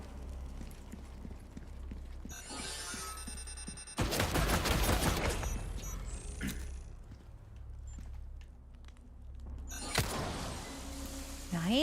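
Gunfire aimed at a turret in Resident Evil comes in bursts of rapid shots. A loud volley hits midway, mixed with clanking and mechanical game effects over a steady low hum.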